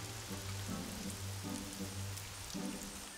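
Rain pours down steadily as a faint, even hiss, with a low tonal hum pulsing underneath.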